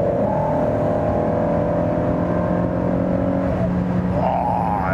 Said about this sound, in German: das Pfeifen, ich weiß nicht, ob das das Luftfahrwerk ist, was die ganze Zeit pfeift